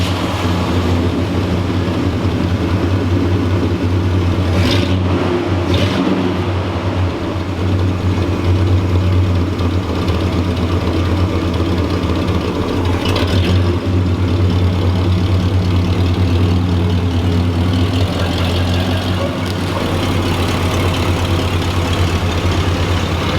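A 1986 Oldsmobile Cutlass engine runs at a steady low idle as the car backs out of a garage, a loud continuous rumble with no talking.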